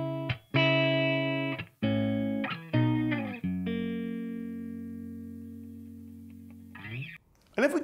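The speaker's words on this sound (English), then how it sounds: "We are playing through a Jet City Amelia set clean." A Paul Reed Smith EG4 electric guitar with two single coils and a Duncan 59 bridge pickup, played through a Jet City Amelia amp set clean: several struck chords and notes, the last one ringing out and fading alone.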